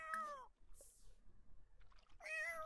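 Meowing from a cat in The Sims 4, two drawn-out, whiny meows at the start and end with a quiet gap between and faint background sounds in the middle.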